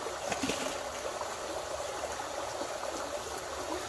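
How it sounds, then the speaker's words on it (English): Creek water flows steadily over bedrock and boulders at a gold prospecting spot, a continuous close rushing and trickling wash with no talk. "let the creek be your background"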